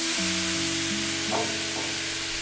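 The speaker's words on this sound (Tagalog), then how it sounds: "Pa-pan-fried ko lang po siya ng mga 5 minutes." Pork belly pan-fries in a wok with no oil, making a continuous loud sizzle with a couple of faint stirring scrapes and no talking.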